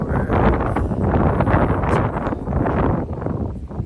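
Strong outdoor wind buffets the microphone in a continuous loud roaring rumble that surges and dips for several seconds, with no voices.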